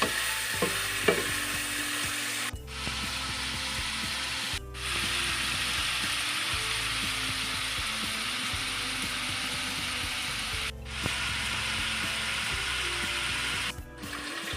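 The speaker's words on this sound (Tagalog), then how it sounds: "Imitos-mitos lang natin ito guys hanggang na mag-brown yung ating pork." Pork, about 400 grams, sizzles steadily in a pan while being stir-fried until brown, a close, continuous frying hiss with rhythmic stirring and clicking, broken by a few brief pauses.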